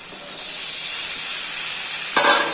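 Mutton pieces tipped into frying masala, giving a steady close hiss of sizzling oil throughout, then a brief louder crackle and clatter near the end as the meat goes into the pan.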